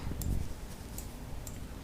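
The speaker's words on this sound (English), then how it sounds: "I didn't bother to edit out all the clicking and the background noises" Faint, regular ticking clicks repeat about every three quarters of a second over a low room hum as background noise in a home voice recording, with no speech.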